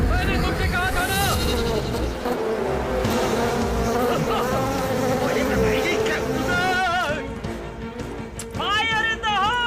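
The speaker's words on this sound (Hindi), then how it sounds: "जाओ मेरी मक्खियों।" A dense swarm of flies buzzes loudly and continuously during an action-comedy fight scene, its wavering drone filling the whole stretch alongside background voices and commotion.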